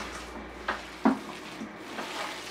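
Grated carrots and walnuts being mixed by hand, soft squishing and light clicks in a few distinct bursts, faint and close against a quiet room hum.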